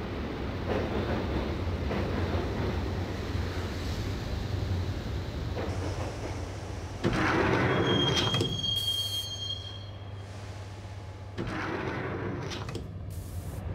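Train ride in the video game Max Payne, heading to Roscoe Street Station: a steady rolling rumble of rail cars with bursts of screeching wheel squeal and clanking, the noise surging and easing as the carriage moves along the track.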